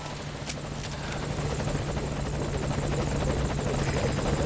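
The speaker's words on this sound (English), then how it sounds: "Get to the chopper now" A Metal Gear Solid V helicopter comes in to a landing zone, its rotor thumping steadily and growing louder as it nears, with a faint blip near the start and no talking.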